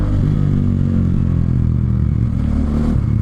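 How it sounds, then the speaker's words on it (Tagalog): A big bike motorcycle's engine rumbles loudly and steadily up close during engine braking, a deep continuous drone with no pauses. "Tsaka sasabayan natin ng engine brake."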